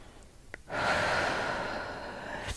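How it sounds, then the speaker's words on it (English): Deep, steady breathing during a yoga stretch: a brief intake, then a long, airy exhale that holds close and fairly loud for about two seconds, with no talk. "Long inhales and exhales again."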